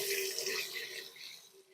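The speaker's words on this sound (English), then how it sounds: "I'm just going to go ahead and dump all this in here and then rinse my hands off quickly." Water from a tap running over hands being rinsed, a soft steady splashing stream heard close and fairly quiet, fading slightly toward the end.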